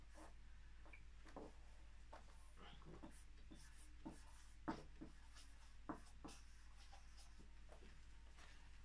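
Pen scratching on paper while Arabic words are written by hand, with short irregular strokes and taps, close and quiet over a low steady hum.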